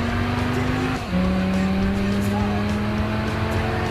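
Racing car engine from the PlayStation 3 game Gran Turismo 6, Goodwood Festival of Speed event, holding a steady loud drone that drops in pitch once as if shifting gear, with tire noise and a voice talking over it.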